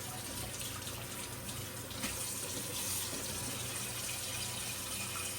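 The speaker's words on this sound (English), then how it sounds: "Wash my hands up a bit here." Kitchen tap water runs steadily as hands are washed at the sink, a constant soft hiss with slight splashing shifts and no talking.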